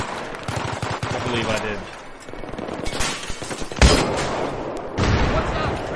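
Suppressive gunfire in Battlefield 3 street fighting: rapid machine-gun bursts and rifle shots, loud and close, with heavier booms partway through and someone talking over the shooting.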